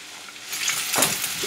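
Food frying in vegetable oil with butter in a pan, a bright close sizzle that swells suddenly to a loud, steady crackle.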